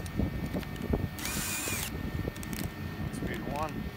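A DeWALT 20 volt cordless drill runs in below-zero cold in one short, bright burst of about three-quarters of a second, with other noise and voices around it.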